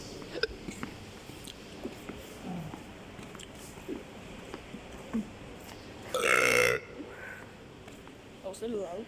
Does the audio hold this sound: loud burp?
yes